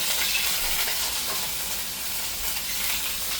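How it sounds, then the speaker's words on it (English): A pot roast sears in hot oil in a pan, giving a loud, continuous, close sizzle and hiss with no pauses. "What I want to do is fry up both sides just a little bit so I can get a nice sear of it."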